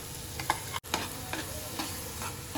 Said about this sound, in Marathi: ह्याच्यात पालकची पेस्ट टाकूया।